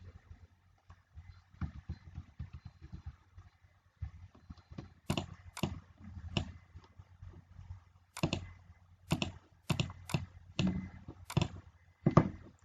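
Sharp computer mouse clicks while working in Adobe Illustrator, close and fairly loud, coming singly and in quick pairs across the stretch between quiet handling noises and soft speech.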